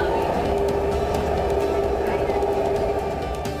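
A Delhi Meerut Rapid Rail train is running, heard as a steady, loud rumble with a sustained electric whine that holds evenly from start to finish.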